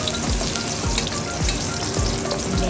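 Onion sautéing in a pan with garlic that has already turned golden, a dense, steady sizzle with scraping stirs now and then, close and loud throughout.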